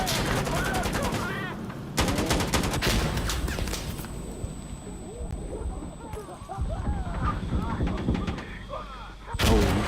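A grenade blast and heavy gunfire in the video game Insurgency Sandstorm: loud bursts of shots and booming blasts in clusters, with a big crash near the end.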